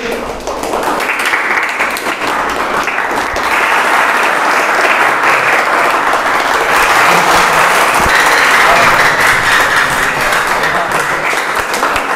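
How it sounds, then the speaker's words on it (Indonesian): A large audience breaks into loud, sustained applause, a dense wash of clapping that holds steady and strong from start to finish with no talk over it. "teman-teman harus volume tepuk tangannya lebih kencang"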